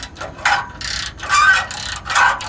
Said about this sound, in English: get a socket on the rusty bolt head. And I don't have high hopes for this, but let's see if we could get this loose without stripping it